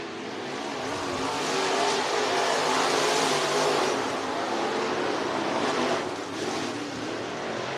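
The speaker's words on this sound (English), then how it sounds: "He's going to get around Corey Sample down the back straightaway." Modified race cars roar around the dirt oval at Cottage Grove Speedway, a dense, continuous engine drone that swells and fades slightly as the field passes, with no clear voices over it.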